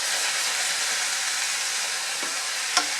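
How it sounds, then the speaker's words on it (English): Carrots tipped into a hot pan over medium-low heat for ground beef eggroll filling, giving a steady, even sizzle and hiss with a faint stir or clink near the end. "So I'll go ahead and start adding my vegetables. I'll start with the carrots."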